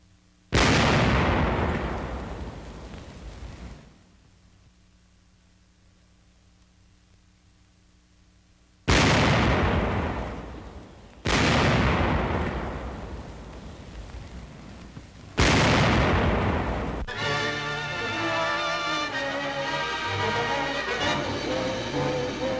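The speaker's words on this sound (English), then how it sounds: "When volunteers were called for to test fire the 88s, an entire battalion asked for the chance." Captured German 88 guns test fired in wartime Burma, three heavy booming blasts spaced several seconds apart, each with a rolling decay, followed by continuous noisy rumble.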